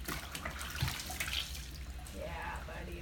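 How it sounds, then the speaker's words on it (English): Warm water runs steadily from a tap into a tub during a Shih Tzu's bath, a continuous splashing wash with a voice talking over it. "This is warm water. It's filling up"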